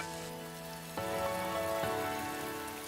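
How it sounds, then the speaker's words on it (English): Steady rain falls on an afternoon outside a kitchen where garlic and tough vegetables are cooked down, a continuous close patter that swells slightly partway through, with no talk. "Just hearing the rain fall"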